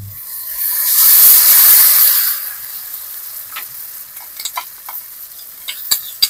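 Chopped tomato and ground spice paste hit hot oil with a loud, steamy sizzle that swells for about two seconds, then settles into quieter frying broken by scraping stirs.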